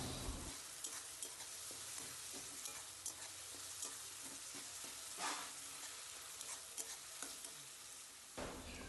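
Onions fry in a pan with ginger garlic paste while being stirred, a steady soft sizzle broken by repeated scraping strokes of a spoon, close and fairly quiet.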